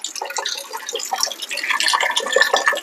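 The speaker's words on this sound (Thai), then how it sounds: "เดี๋ยวผมจะเปิดน้ำให้ดูนะครับ" Water gushes strongly from a water filter faucet in a steady, loud splashing stream with no voices over it.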